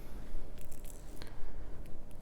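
Scissors cut a length of turquoise knotting cord for a beaded friendship bracelet, with a few quick, close snips over a soft background hum.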